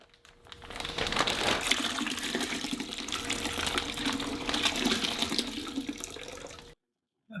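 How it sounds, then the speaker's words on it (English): A bag being filled with reverse osmosis water and swished during home winemaking, a steady rush of running water and sloshing lasting several seconds before stopping abruptly. "I'm just going to fill it up with RO water and give it a swish"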